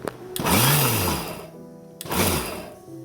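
A kitchen mixer grinder whirs in two short pulses while grinding a wet spice paste with turmeric, cumin and chili powder for banana flower thoran, the motor rising in pitch then winding down each time.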